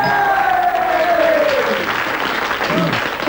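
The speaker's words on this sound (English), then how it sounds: "a roaring cheer from your friends there" A game show studio audience breaks into a sustained roar of applause and cheering, loud and close, steady for a few seconds before easing slightly, with a rising musical sting underneath.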